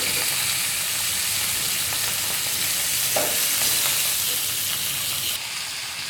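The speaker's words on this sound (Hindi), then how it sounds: "कुछ देर के लिए 2 से 5 मिनट लो फ्लेम पर पकने देंगे ताकि हमारी चिकन अच्छी तरह से टेंडर हो जाए।" Tandoori chicken sizzles steadily in a pan over a low flame, a continuous moderate frying hiss with a few faint pops, no voices.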